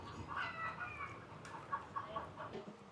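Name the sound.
chickens clucking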